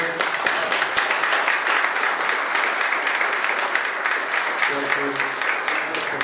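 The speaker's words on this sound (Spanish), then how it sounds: "le pido un aplauso para el doctor." Audience applause after a talk, steady dense clapping filling the whole stretch at a moderate distance, with a faint voice or tones entering near the end.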